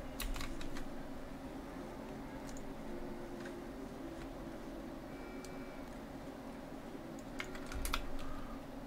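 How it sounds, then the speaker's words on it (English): Computer keyboard keys clicking while playing the video game Don't Starve, scattered quick taps and short bursts at close range over a soft steady fan hum, with no talking. "Oh my god, I keep clicking escape."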